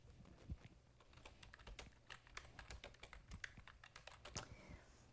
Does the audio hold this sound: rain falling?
no